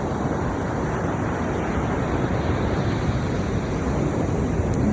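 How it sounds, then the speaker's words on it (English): Ocean surf washing steadily onto the shore, a continuous broad rush with no clear breaks between waves, fairly loud and close, with no voices. "sync them with the waves behind us"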